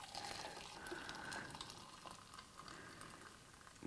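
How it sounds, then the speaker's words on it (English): Boiling water is poured over ginger and honey in a mug, making a soft, continuous hissing splash that stays faint and steady for a few seconds with no talking. "Pour boiling water over that."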